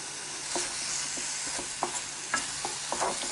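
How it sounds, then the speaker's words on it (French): Apples cooking in butter in a pan give a steady soft sizzle, broken by several light scrapes as they are stirred. No one speaks. "je mets mes pommes en cuisson, tout simplement"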